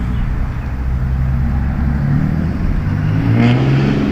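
The HiPEAK Bona electric bike's motor whirs steadily and close while assisting a slow climb uphill, its tone rising slightly near the end over rolling and wind noise.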